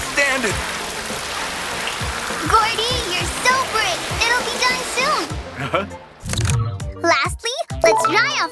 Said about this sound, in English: Use the high-pressure water gun.